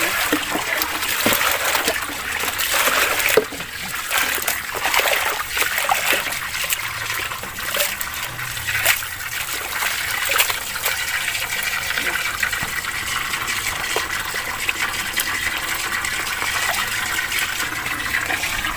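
Vegetables being washed under running water in a kitchen, a steady close trickle and splash of the stream with irregular spatters as the produce is handled, continuing throughout.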